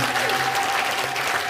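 Audience applause at a global launch event, a steady dense wash of clapping from a crowd, loud and sustained for the whole moment with no talk over it.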